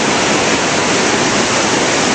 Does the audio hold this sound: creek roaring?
yes